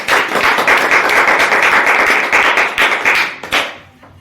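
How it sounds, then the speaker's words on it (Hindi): Loud audience applause at an Agniveer final selection event in India, dense clapping sustained for about three and a half seconds before fading quickly. "तो एक बार जोरदार तालियां हो जाएं।"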